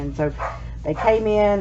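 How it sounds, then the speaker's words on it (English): Dogs bark in a few short yapping bursts close by, overlapping with a person talking. "So sorry about my dogs barking."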